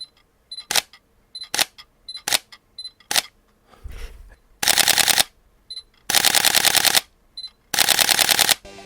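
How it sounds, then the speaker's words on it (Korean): Sony A7 III mirrorless camera shutter: several crisp single clicks, then three loud sustained bursts of rapid continuous-shooting shutter firing, close and alone. "이번엔 M3의 셔터음과 연사 속도 그리고 연사음을 들어보시겠습니다"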